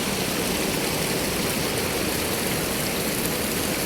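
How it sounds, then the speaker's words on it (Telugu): The Sindhu river flowing beside a cottage on the Amarnath route, a continuous broadband rush of fast water, loud and even throughout with no other sounds. "చూడండి నదీ ప్రవాహం ఎంత బ్యూటిఫుల్గా ఉందో"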